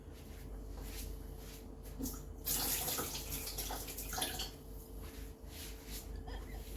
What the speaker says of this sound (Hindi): सो ये जो पानी मैंने निकाला है इसको मैं फेंक देती हूँ.